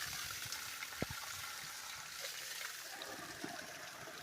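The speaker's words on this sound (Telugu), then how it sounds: "దాంట్లో పోయే వేస్టేజ్ నీళ్ళంతా ఇలా పెట్టి పైప్ పెట్టేసి పోతా ఉన్నాయి" Overflow water from a village tank, filled by a bore motor, pours out through a pipe in a quiet, steady splashing stream with a few small drips and plops.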